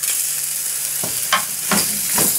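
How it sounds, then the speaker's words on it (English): Bacon fries in a non-stick pan with a constant bright sizzle, broken by a few scraping knocks as a metal utensil turns the rashers over. "Just turning the bacon over."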